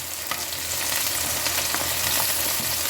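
Stew beef frying in a pan for a rice-and-gravy Sunday dinner, a loud, steady close sizzle with faint stirring scrapes and no talk.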